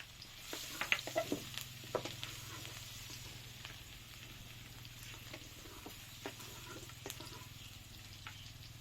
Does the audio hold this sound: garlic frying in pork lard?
yes